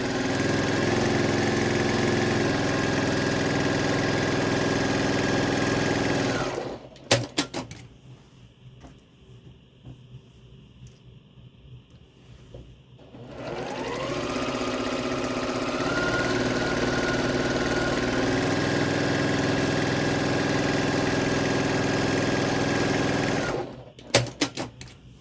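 A sewing machine stitches a quilt block, its motor whirring in a steady, close run. It stops for several seconds with a few faint clacks, then runs again for a long stretch and ends with a brief rattle. No one speaks.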